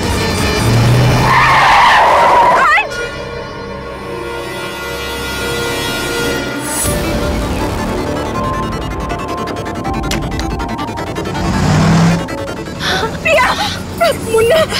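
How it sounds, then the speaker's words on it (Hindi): A car brakes hard and its tyres skid loudly on the road, with a harsh screech and rumbling vehicle noise that fill the whole stretch, under other dramatic sounds. "अविनाश जी गाड़ी रोकिए प्लीज"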